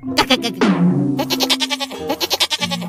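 Comedy sketch about a sacrificial goat for Qurban: a goat bleats in several loud, quavering calls close to the mic, with short gaps between them and no talk over them.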